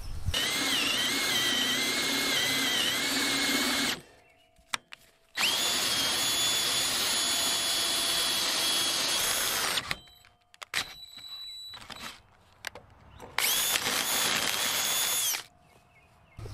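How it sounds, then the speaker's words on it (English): A power drill bores through a steel trailer-hitch bracket and bar beneath a bus: three long, loud, steady whining bursts separated by short pauses filled with faint clanks. "now I'm going to be drilling these out right here through the bracket, through the bar on both sides"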